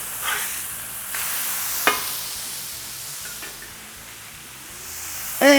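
Smashburger patties sizzle steadily on a BBQ hotplate after flipping, a soft continuous hiss with a few brief scraping clicks from the spatula over it.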